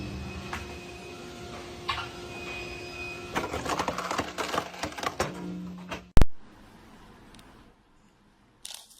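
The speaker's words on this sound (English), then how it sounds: "This machine easily splits even huge stones by sequentially tapping them with its teeth." A stone-splitting machine taps huge stones with its teeth, giving a series of sharp irregular knocks and cracks that cluster and build, then one loud sharp strike followed by near silence.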